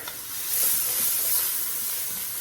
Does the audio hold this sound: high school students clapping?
no